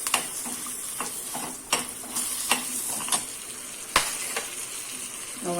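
A little grated coconut roasts in a pan with a soft, steady sizzle, and a spatula stirs and taps the metal in a string of sharp clicks and scrapes, close by with no talking.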